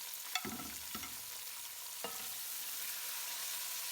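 Sliced tomatoes and green chillies hitting a hot pan of frying onions, a few sharp stirring clatters early on, then a steady low sizzle that carries on alone.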